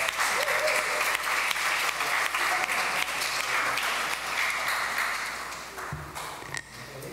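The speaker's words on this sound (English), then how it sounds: "Everyone, a round of applause for a newly married couple." Wedding guests applaud a newly married couple with a burst of loud, dense clapping that gradually thins out and softens toward the end.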